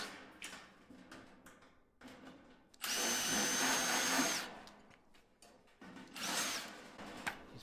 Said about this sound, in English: You just drill these rivets back out by going straight through them with the 1/8 bit